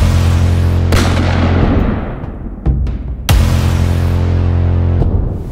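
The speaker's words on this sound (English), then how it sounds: "We're gonna be firing different sizes ng mga Glocks." Loud, booming shots from Glock pistols in several sizes, including the Glock 17, 19, 27 and 43X, at a range: a few sharp reports, each followed by a long echoing rumble.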